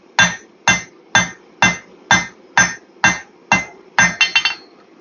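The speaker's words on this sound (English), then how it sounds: "Start by hammering on the corners." A hammer strikes the corners of hot steel being forged into a pair of shears: nine evenly spaced ringing blows on the anvil, then a quick burst of four lighter taps, close and loud.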